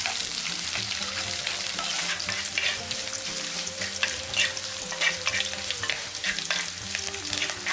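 Curry with curry leaves frying in a pan while being stirred, a dense steady sizzle with frequent small crackles and scraping strokes, close up and without speech.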